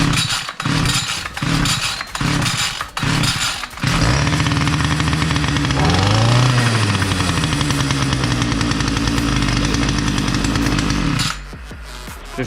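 A small two-stroke brushcutter engine with a newly replaced ignition coil and a tampered carburetor first sputters and catches in several bursts. It then runs loud and close, rasping at a high idle with a brief rev, before it drops away.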